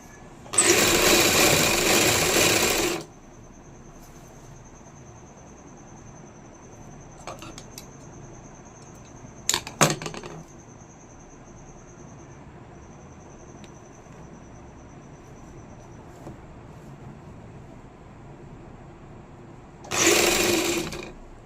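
A sewing machine stitching the lining of a kameez runs in two loud, steady bursts, one about three seconds long at the start and a shorter one at the end, with quiet handling clicks between them.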